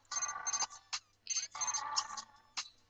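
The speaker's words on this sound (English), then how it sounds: "Answer the phone, let Ruben in." A telephone rings in The Sims 3, sounding as a series of bright electronic ringtone bursts in short repeated bursts with brief gaps between them, close and clear with no talking.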